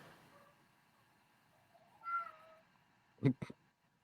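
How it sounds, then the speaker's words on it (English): A house cat meows softly once, then gives a louder, sharper double meow near the end, heard in a quiet indoor room. "Did you hear the cat?"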